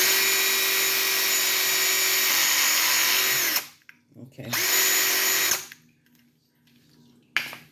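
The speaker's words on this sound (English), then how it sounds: "I have just created my own connectors with the drill, poking the holes in it" A power drill bores holes in plastic doll parts, a loud close whine lasting several seconds, then a short second burst, with a brief word spoken as the motor stops.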